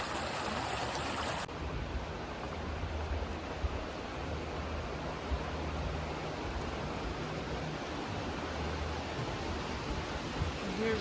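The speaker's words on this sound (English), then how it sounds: "Here's the Spearfish Creek running through." Spearfish Creek flows past the D.C. Booth Historic National Fish Hatchery in Spearfish, South Dakota, a steady, even rush of running water heard alone throughout, with a slight shift in tone in the first moments.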